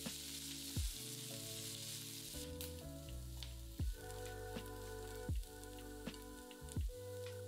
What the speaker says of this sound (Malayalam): ഇതെല്ലാം കൂടിയിട്ട് 1 മിനിറ്റ് ചെറുതായിട്ട് മൂപ്പിക്കുക